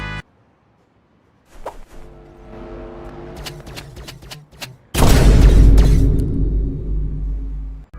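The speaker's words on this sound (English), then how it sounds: "the other team could just shoot the crane and almost spawn kill you" Energy rifle shots fired at a crane on a construction map in the video game Rivals, a run of sharp zapping blasts followed by a loud, sustained roaring burst up close.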